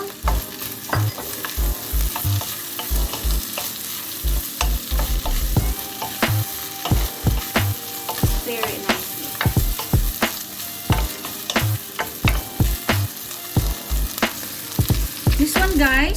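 Ginger stir-fried in a hot pan for chicken and seafood noodles, loud and close, with a steady sizzle broken by repeated scraping strokes of a utensil against the pan in an uneven rhythm, no voices.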